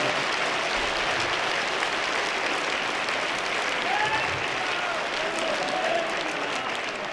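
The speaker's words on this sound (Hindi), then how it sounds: "ऊपर हाथ उठाकर दोनों तालियां बजाकर प्रधानमंत्री का स्वागत करें, अभिनंदन करें।" A large crowd at a public gathering for Hanuman and Mahavir Jayanti applauds to welcome the prime minister, a broad, even wash of clapping heard at some distance and sustained the whole time.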